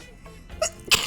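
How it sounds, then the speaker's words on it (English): A single sudden sneeze bursts out nearby, preceded by a brief sharp intake of breath, loud against a quiet room. "I'm gonna sneeze."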